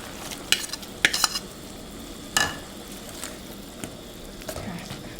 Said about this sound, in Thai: พอเดือดแบบนี้นะคะ ใส่เปลือกกุ้งลงไปเลยค่ะ